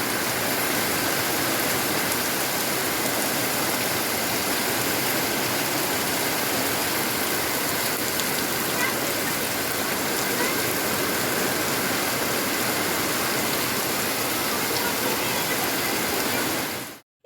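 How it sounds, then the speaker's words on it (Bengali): Heavy rain pours down outside at midday, a dense, unbroken roar that stays loud and even for the whole stretch before cutting off abruptly at the end. "বাইরে এত জোরে বৃষ্টি হচ্ছে"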